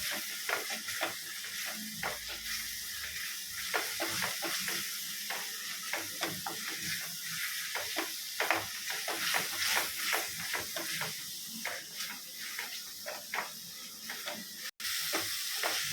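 Chicken and onion masala, Madurai ghee sukka style, sizzling in a pan while being stirred, with a continuous close frying hiss and rhythmic scraping strokes of the spoon throughout.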